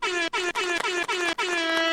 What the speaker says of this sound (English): Let's get some air horns for that.